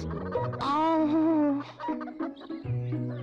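Chickens kept indoors in a house cluck close by, with one drawn-out, wavering squawk followed by shorter clucks and calls, fairly loud and with no talking over them.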